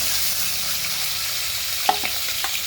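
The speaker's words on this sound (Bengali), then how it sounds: "তিনটে পিঠে করেই ভাজি ভেজে নিই সব মাছগুলো ঠিক আছে" Pieces of tilapia frying in hot oil give a steady, dense sizzle throughout, with a few faint clinks of a utensil stirring near the end and no voices.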